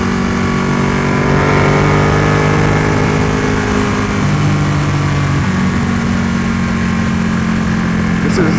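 A Ducati Panigale motorcycle on the highway, its engine a loud, steady drone with gradual pitch shifts between gears, heard continuously together with rushing wind.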